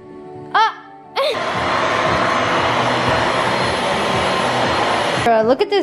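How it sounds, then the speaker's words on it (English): A household vacuum cleaner runs steadily and loudly for several seconds in a home with a golden retriever puppy, with brief vocal sounds just before it starts and as it cuts off. "look at this vacuum"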